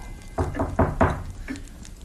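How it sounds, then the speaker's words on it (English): Four knocks on a wooden cottage door in a fairy-tale setting, three evenly spaced raps followed by a softer fourth after a short pause, close and clear against quiet room tone. "Who's that knocking on my door?"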